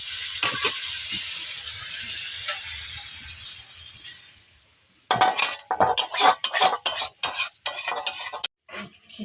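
Khichuri rice and lentils are stirred in a hot pot: a steady sizzle at first, then a burst of close, sharp scraping and clinking strokes of a spoon against the pot, ending abruptly.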